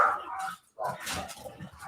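Dogs bark excitedly in a few quick, loud bursts close by, with a brief pause between volleys and faint talk underneath.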